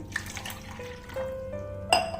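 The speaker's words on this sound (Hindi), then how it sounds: "तो इस मोल्ड को निकाल के बस इसमें पानी भरना है" Water trickles from a tap into a popsicle mold, with faint dripping at first, then a steady rising tone as the mold fills, and a clink near the end.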